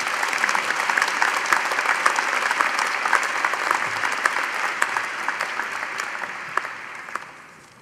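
Audience applauding graduates at a university graduation ceremony: dense, steady clapping from a large crowd that holds for several seconds, then tapers off near the end.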